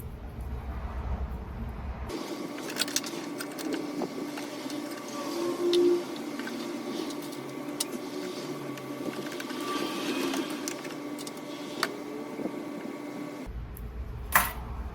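A sewing machine stitches pajama fabric for a Butterick 6296 pajama set, a steady whirring mechanical drone lasting several seconds near the mic, stopping and starting at the edges, with no speech.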